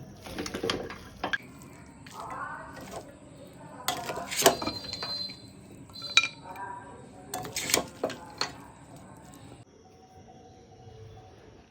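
Fried sago is served from a pan onto a plate in a home kitchen, marked by scattered metal clinks and scraping taps, with a bird cooing nearby and a voice speaking at moments.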